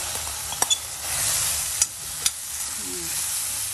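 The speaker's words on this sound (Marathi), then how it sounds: "ही घालून घेऊया भेंडी त्यामध्ये" Okra (bhindi) goes into a hot pan and is stir-fried: a steady broadband sizzle with a few sharp spatula clinks against the pan, close and alone.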